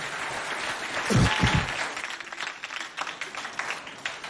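Audience at a Chadian high school debate competition applauds, a continuous wash of clapping with a louder surge near the middle, then lingering scattered claps and crowd murmur.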